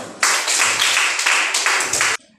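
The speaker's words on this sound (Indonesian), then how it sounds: "Tepuk tangan untuk semua dulu" A classroom of students claps together in a short burst of brisk, dense applause, loud and close, stopping abruptly after about two seconds.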